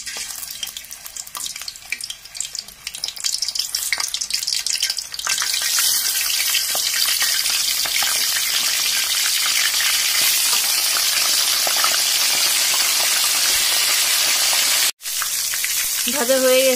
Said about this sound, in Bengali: তো আমি এই রোস্টের পিসগুলা ভেজে নিব।